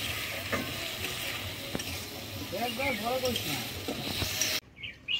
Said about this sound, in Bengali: সামান্য একটুখানি জল দিয়ে দিলাম, জল কাটবে, নাড়া দিয়ে দেবো।